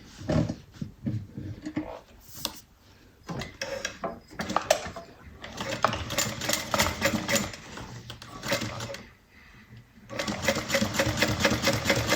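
A sewing machine top stitches the side of a fabric bag in steady whirring bursts that start and stop, with brief pauses between runs, close and fairly loud, while a person talks quietly at times.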